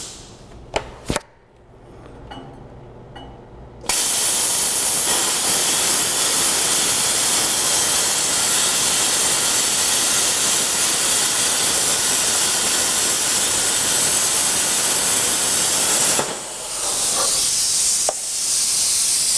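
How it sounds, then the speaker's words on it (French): A plasma cutter, fed gas and electric current through its handle torch, slices through metal with a loud, steady roaring hiss that runs for many seconds after a few brief clicks, then stops abruptly near the end. "en envoyant le gaz dans la poignée ici et en envoyant de l'électricité en même temps, on obtient une colonne de plasma"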